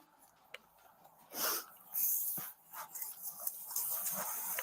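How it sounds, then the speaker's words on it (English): A bloodhound whimpers and snuffles in short, faint bursts close to the microphone, with quiet breathy snorts between them. "Is that like a bloodhound? That dog? Yeah, that is a bloodhound."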